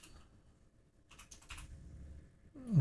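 Keystrokes on a computer keyboard, a short burst of close, crisp clicks in a quiet room, ending with a brief louder sound.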